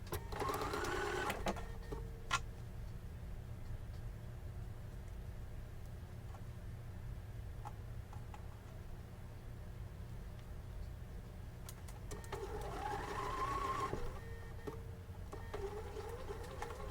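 A sewing machine runs in short bursts at the start and again near the end while stitching and backstitching quilt seams, with a quieter low hum between the runs; no one speaks.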